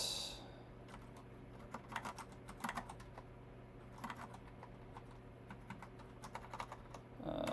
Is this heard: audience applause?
no